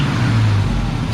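Junkyard Oldsmobile Cutlass engine idling steadily up close, a low rumbling drone with a strong, even hum that holds for about a second without talk.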